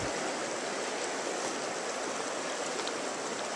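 River water rushes steadily on a Newfoundland salmon river, a constant, even, broad hiss of flowing current with no voices and no breaks.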